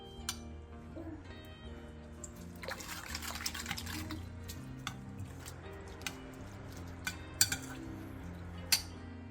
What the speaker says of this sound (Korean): 볼에 다진 야채와 다시마 우린물 1컵, 진간장 4스푼, 소주 3스푼, 설탕 반스푼, 다진 마늘 1스푼을 넣고 골고루 섞어주세요.